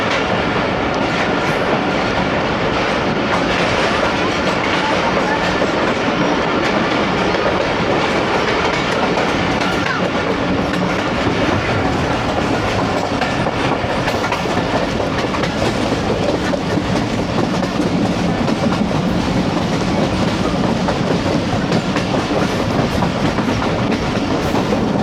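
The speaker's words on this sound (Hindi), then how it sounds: "फुल अंधेरे में ट्रेन" An Awam Express passenger train on the Lahore to Peshawar line running at dusk into darkness, a loud, steady rumble of wheels and carriages with continuous rail clatter heard from on board.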